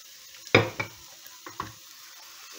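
South African pancake batter (pannekoek) frying in a pan, heard as a few close, sharp scraping and clattering bursts against a low background sizzle, with quiet gaps between them.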